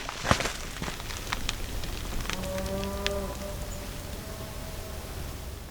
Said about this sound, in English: I can hear cows.